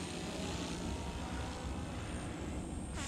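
An RC model V-22 Osprey tiltrotor flies steadily overhead in forward-flight transition, giving a continuous broadband whirring drone of rotors and motors at even loudness throughout.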